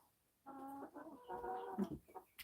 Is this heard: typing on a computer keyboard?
no